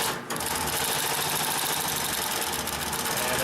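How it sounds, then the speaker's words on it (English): Consew 744R-30 industrial sewing machine runs loud and continuous while stitching through 20 stacked layers, a steady motor drone with a rapid rhythmic needle beat after a brief start-up. "And as you can see, we can sew right over 20 layers."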